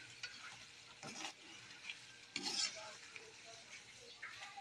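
Pork with string beans being stirred in coconut milk in a pan: soft, uneven spoon strokes scrape at close range over a faint simmering sizzle, with no talking.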